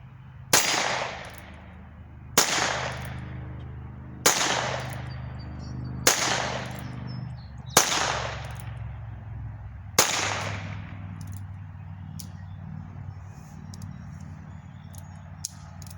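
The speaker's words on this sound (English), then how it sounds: "fired a couple extra times just to make sure all the rounds went off" Sharp rifle shots from a .22 LR, six loud cracks spaced roughly two seconds apart, each with a short decaying tail, followed by quieter ambience.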